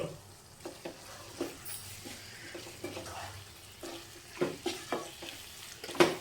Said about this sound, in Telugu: ఒకసారి మసాలా అంతా వంకాయ ముక్కలకు పట్టేలాగా కలుపుకోవాలండి.